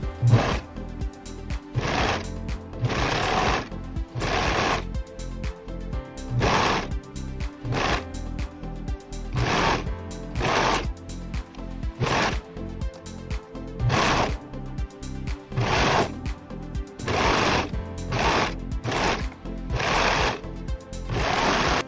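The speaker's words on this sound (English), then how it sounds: "finish the seam with a zigzag stitch or serger" A sewing machine runs in repeated bursts while stitching the seam of a fabric scrub cap, its steady mechanical whir pausing briefly between passes, loud and close with no voices.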